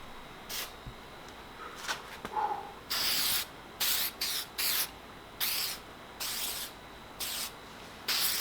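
Headlight restoration coating from a Meguiar's kit sprayed onto a foggy car headlight in repeated short hissing bursts, close and fairly loud, with brief pauses between passes.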